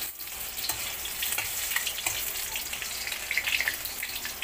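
Garlic frying in hot cooking oil for a spicy crab dish, with a steady crackling sizzle and scattered pops that run throughout, close up and without talk.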